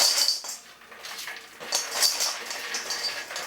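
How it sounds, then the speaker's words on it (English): Baked croutons tumble into a big bowl with crisp, dry clinks and rattles in small bursts, like light hard pieces clattering against the bowl's sides. "Now you take the baked croutons, put them in a big bowl."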